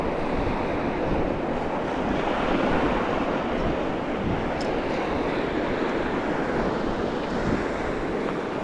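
Cold, strong wind blowing across a beach at Lido with surf breaking, a steady loud roar of waves and gusts buffeting the microphone throughout, no talking.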